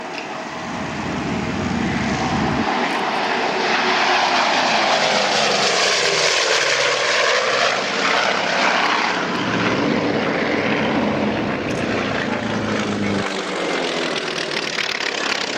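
Droning propeller engines of three monoplanes pass overhead at an air show, a steady loud roar that swells and wavers as the planes fly by.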